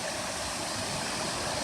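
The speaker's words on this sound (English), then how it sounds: "What do you think about your first time at the waterfall?" Water rushes steadily over a waterfall near a cave, a continuous soft wash of noise with no voices and no breaks.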